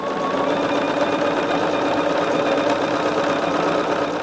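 Sewing machine running steadily through fabric and thread, a loud, fast, even mechanical whir and rattle held for several seconds without pause, close by and unaccompanied by voices.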